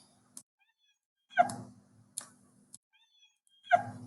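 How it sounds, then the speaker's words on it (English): A cartoon cat character's meow effect from a Scratch coding project plays alone, repeating as short bright meows with faint clicks in between and near silence around them. "my character is going to say meow"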